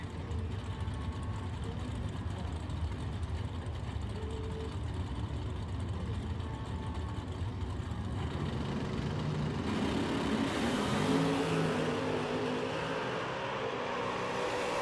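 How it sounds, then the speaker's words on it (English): Drag race cars in a Super Pro bracket event, a Pontiac Firebird against a 1967 Chevy Nova. Engines rumble at a distance, then a broad surge of revving and roaring launch builds in the second half, with loudspeaker talk faintly under it. "Kenny Underwood coming up next in the Firebird down in 593 against the another wheelie machine, Howard Westbury, and the 67 Nova down in 562"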